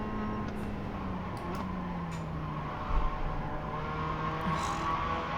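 A race car engine in a driving simulator drones and falls in pitch as the car brakes and downshifts, with a brief blip partway through.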